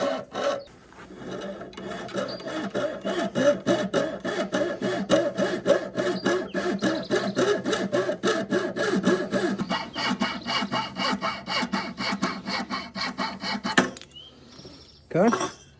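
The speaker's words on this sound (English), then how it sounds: "Keep that saw straight up and down so you're not at an angle." Hand saw cutting a knife kit blank, rapid rhythmic back-and-forth rasping strokes, close and steady for most of the time, then slowing and stopping near the end.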